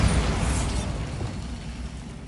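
A Bombarda spell detonates in a wizard video game, landing as a single low rumbling blast that fades steadily over two seconds, with nobody speaking.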